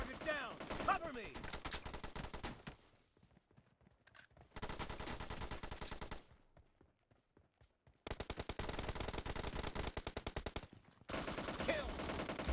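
Rapid automatic gunfire from PUBG Mobile team deathmatch play, dense bursts of shots in several long volleys separated by quieter gaps, loud and close.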